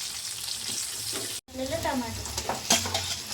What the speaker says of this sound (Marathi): आता आपण टाकणार कांदा थोडा आपण लाल होऊ द्यायचा.